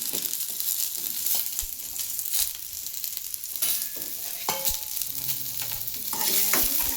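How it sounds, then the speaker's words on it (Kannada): Green chillies sizzle in hot oil for a North Karnataka chana dal curry, a continuous crackling fry with stirring scrapes and occasional louder pops, close and alone. "ಚೆನ್ನಾಗಿ ಎಣ್ಣೆಗೆ ಫ್ರೈ ಆಗುತ್ತೆ ನೋಡ್ರಿ"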